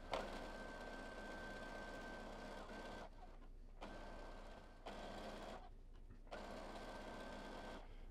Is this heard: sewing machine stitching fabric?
yes